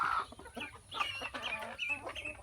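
Ducks calling outdoors, a series of short, faint quacking and clucking calls spread irregularly over low background noise.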